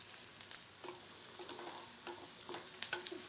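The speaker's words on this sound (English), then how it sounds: "I'm doing or roasting them on a very high flame" Onions or similar pieces roasting on a very high flame for Mumbai black pav bhaji, a steady faint sizzle with occasional stirring scrapes and light ticks throughout.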